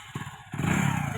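A motorbike engine catches after a couple of sputtering pops, then idles in a close, rapid, even putter that continues to the end.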